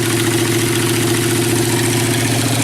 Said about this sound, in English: I mean, idling kind of high.